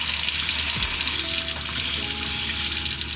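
Water runs steadily from a camper van's shower tap once the water pump kicks in, giving an even, continuous hiss and rush with no pulsing, close and fairly loud.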